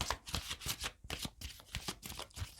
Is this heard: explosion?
no